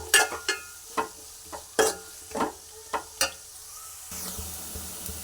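Shredded cabbage with chillies and salt is stirred in a pan, giving a series of distinct spatula scrapes and knocks, roughly one per half second, over a faint sizzle that settles into a steadier hiss at the end.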